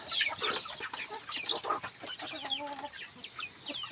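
Backyard chickens cluck and chirp in repeated short bursts close by, with several birds calling over one another against steady farmyard noise and no talking.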